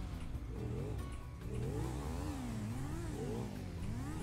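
A jeep engine drones as the vehicle pulls away, its pitch wavering up and down in steady mid-level revs, fairly quiet and continuous with no talking.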